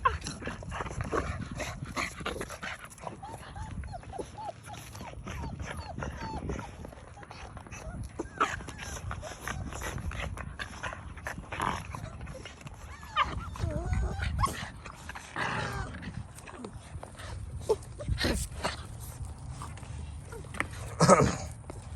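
Pitbull puppies play and scuffle, giving small whimpers and yips among soft shuffling and thumps. A larger, older pup roughs up the little ones, and someone talks quietly at times.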